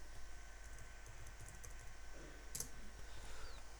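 Light, quick keystrokes on a computer keyboard patter in a short run, faint against a steady low hum, with one sharper click standing out.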